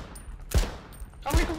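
Two sharp gunshots ring out in the survival shooter H1Z1, spaced about a second apart at moderate volume, with a player's voice faintly under them.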